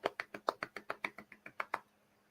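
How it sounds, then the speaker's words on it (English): A slow, soft golf clap: about twelve light, evenly spaced hand claps in a steady rhythm, close and fairly quiet, then stopping, with no talk. "golf clap"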